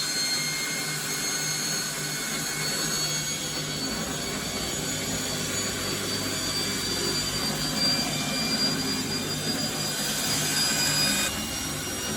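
A Bosch WFF1401 washing machine motor with new bearings spins fast with its back cover off, giving a loud, steady whirring roar that runs unbroken throughout with no talking.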